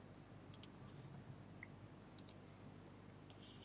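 Quiet mouse clicks on a computer while copying and pasting code, a few faint isolated clicks and a double-click over steady low hiss, no talking.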